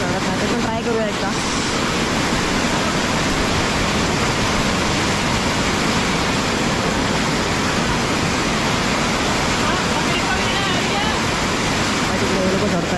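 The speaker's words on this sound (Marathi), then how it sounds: "पण खूप आवाज पाण्याचाच खूप आवाज येतोय" A loud, forceful waterfall roars continuously at close range, a dense, unbroken rush of pounding water with voices faintly buried underneath.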